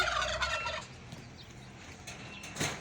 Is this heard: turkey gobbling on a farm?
yes